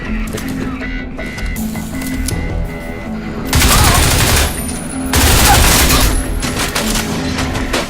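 Artillery and gunfire in the shooter game Crysis 2, bursts of rapid firing and heavy blasts with two loud, dense barrages in the middle, over a droning game background.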